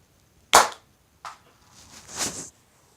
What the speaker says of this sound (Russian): Вот стрелять мы туда будем, короче.